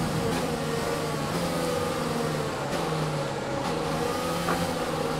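Formula 1 race car engine from the F1 2020 game drones steadily through a lap, a continuous mid-pitched whine with slight gear-change dips, loud and close with no talk over it.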